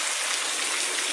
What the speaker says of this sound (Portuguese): E a chuva ela não dá trégua aqui na Itaitinga, meu amigo David Viana.